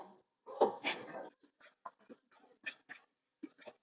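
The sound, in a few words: dog barking at someone walking by with a dog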